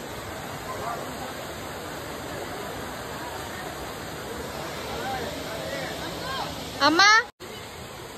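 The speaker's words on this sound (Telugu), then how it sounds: "ఇదే విజయల వాటర్ ఫాల్స్" A low-flowing forest waterfall at Maredumilli makes a steady, even rush of water throughout, with a voice calling out briefly near the end.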